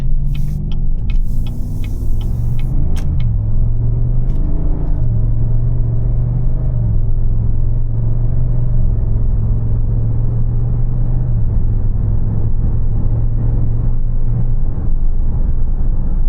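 A Ford Mustang's deep engine rumbles steadily and loudly up close, with a low droning tone and a few sharp higher clicks early on.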